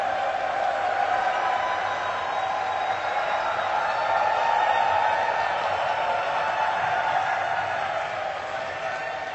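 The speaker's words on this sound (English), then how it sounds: "let's get you guys cheering once again so everybody start making some noise" A large crowd at a Dota 2 event cheers and makes noise, a dense and steady wash of voices and shouts that stays loud for several seconds before easing slightly at the end.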